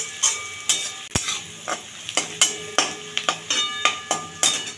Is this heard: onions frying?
yes